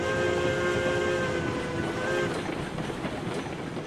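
Locomotive pulling a 13- to 14-car freight train in the railroad game RailRoads Online, a loud continuous rumble of rolling cars with sustained whistle-like tones that fade partway through.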